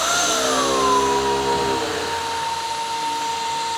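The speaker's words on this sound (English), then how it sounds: "can you hear the vacuum motor running?" A wet-dry vacuum machine's suction motor spins up and runs steadily, a loud continuous whine that settles into a sustained pitch as it reaches speed.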